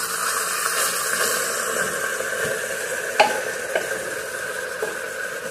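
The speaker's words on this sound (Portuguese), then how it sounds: "Aí eu vou refogar agora aqui os legumes, no caso, batata," Vegetables, including potato, pumpkin, carrot and taro, sautéing in a pressure cooker for chicken soup, with a steady close sizzle and a few faint stirring knocks.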